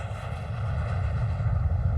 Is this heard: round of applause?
no